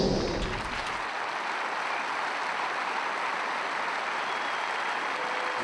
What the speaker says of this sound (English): ask you to join us in a minute's applause